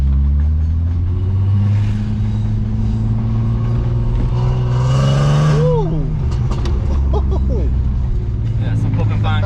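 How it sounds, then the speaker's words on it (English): An Audi A3 with a 3.2L VR6 engine and air suspension revs its exhaust from inside the moving car, a loud steady drone rising in pitch as it accelerates, with people talking over it. "The exhaust sounds really nice as well in this."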